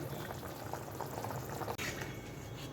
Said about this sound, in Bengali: যতক্ষণ না আলু আর গাঠি কচু ভালোভাবে সেদ্ধ হয় ততক্ষণ বয়েল করে নেব